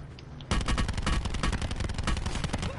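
Rapid gunfire in the Call of Duty Blackout video game: after a brief quiet lead-in, a loud, dense burst of automatic shots starts and continues without pause to the end.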